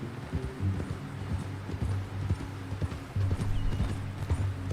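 Red Dead Redemption 2 game audio: horse hooves clip-clop at an easy walking rhythm, close and clear, over a low rumbling background.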